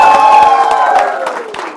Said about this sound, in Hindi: खड़े पे ताली बजनी चाहिए।